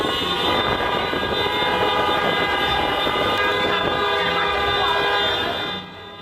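Many vehicle horns blaring together at Merak harbour in Banten, a dense, sustained chorus of overlapping honks heard close and loud, continuing steadily before easing off at the end.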